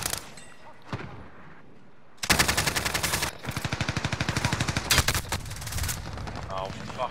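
Gunfire in the video game Rebirth Resurgence, mostly dense rapid automatic bursts that hammer loudly after a quieter opening with a single crack, continuing in rattling volleys to the end.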